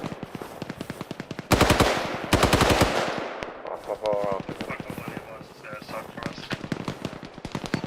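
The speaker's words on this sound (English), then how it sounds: "If it's very close, that's our PKM from the friendly squad." Automatic bursts from a friendly squad's PKM machine gun during a large Arma team-versus-team battle, rapid rhythmic fire with two loud close bursts near the middle and lighter ongoing shots around them, while a person talks over the gunfire.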